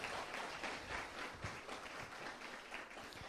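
Applause from a church lecture audience, a dense, steady wash of many hands clapping at a fairly faint, distant level, with no voices over it.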